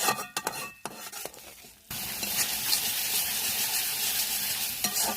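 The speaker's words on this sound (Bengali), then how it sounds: "এইগুলি একটু নেড়ে দিয়ে কষাবো" Chili and coriander powder being stirred and fried in oil, a loud steady sizzle that starts abruptly partway through after a few sharp clinks and scrapes, then continues alone with occasional utensil taps.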